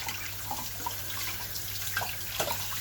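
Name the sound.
rinsing a mess tin under running tap water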